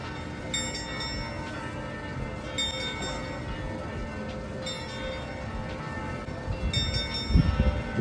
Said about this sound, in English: Skeleton's ringing his bell.